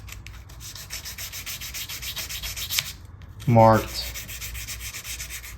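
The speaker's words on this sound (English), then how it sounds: "I also like to fold the sandpaper to get to the corners" Folded sandpaper rubbing over guitar frets during fret leveling on a Cardinal Zenith guitar, a fast, even back-and-forth rasp, close and steady, with one louder scrape midway and a single spoken word.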